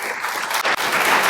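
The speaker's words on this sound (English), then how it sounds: "we'll give them a round of applause" Audience applause fills a school Veterans Day assembly, a steady, dense clapping that carries on loudly through the whole short stretch.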